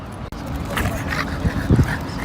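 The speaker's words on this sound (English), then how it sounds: "Very friendly dogs here in New York City." A friendly dog on a New York City street gives a couple of short yips and whimpers close by, mixed into steady street noise while people talk over it.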